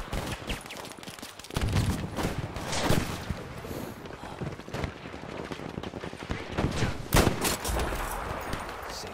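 Sniper rifle fire in Battlefield 5 comes as repeated booming shots within dense, chaotic battle noise, with several sharp cracks standing out over a constant roar of gunfire.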